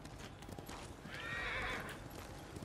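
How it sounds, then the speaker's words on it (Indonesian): A white horse in Ghost of Tsushima gives a loud, bright whinny in the middle, with hooves clip-clopping steadily before and after it. "kita naik kuda putih aja"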